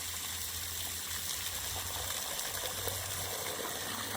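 Steady hiss of water spraying continuously against a house foundation under construction, with a low motor hum underneath and no voices.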